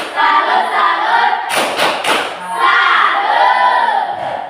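An audience of schoolchildren gives the rhythmic tepuk salut clap, a short burst of unison claps and thumps between loud crowd chanting and shouting, close and energetic.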